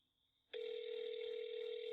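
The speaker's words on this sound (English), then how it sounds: "Come on, Mabel, answer the damn phone." A telephone call over speakerphone goes unanswered. It starts quietly with a faint tone, then a loud steady ringback tone cuts in and holds unbroken. No one talks.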